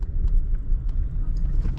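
Truck pulling away from a truck stop at night in winter, a steady low engine rumble and road noise holding level and fairly close throughout, with no voices.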